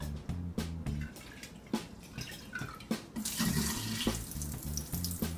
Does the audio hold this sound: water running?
yes